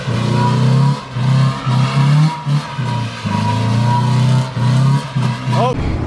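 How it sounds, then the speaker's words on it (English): A car passes close by with a rising and falling engine drone and revving swells, loud throughout, with people talking over it. "Someone literally drove by the second we started."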